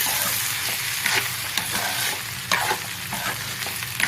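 Overnight-soaked sago is stirred in a hot pan for a sago and moong dal upma, making a loud sizzle with repeated scraping spatula strokes and no speech.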